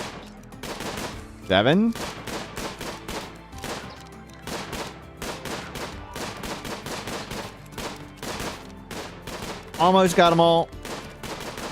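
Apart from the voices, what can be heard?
colonists firing guns in RimWorld video game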